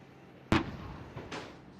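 A tank cannon shot at a tank biathlon booms out sharply, followed by a rolling echo and a second, softer distant thud about a second later.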